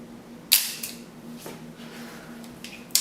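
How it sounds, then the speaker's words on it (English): The shutter of a Voigtlander R4M 35mm rangefinder camera fires twice, each a crisp, loud mechanical snap a few seconds apart, with small handling clicks in between against a quiet background. "Here, I'll let you listen to the shutter."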